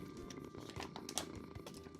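Minecraft cat purring softly in a faint, low, rhythmic rumble, close but quiet, with a few small clicks and no talking.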